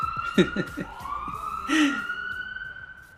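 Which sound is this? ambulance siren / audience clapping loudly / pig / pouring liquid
ambulance siren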